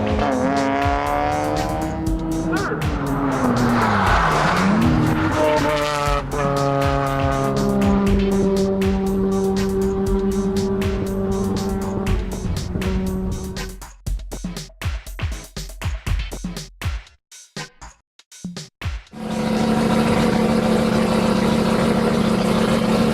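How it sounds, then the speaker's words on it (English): Mazda RX-8 race car on Nexen tires lapping the Willow Springs track, engine howling loudly with rising and falling revs through shifts, then a brief choppy drop before the engine returns at full volume. "We brought the Nexon Tire Energy X Mazda Trix RX-8"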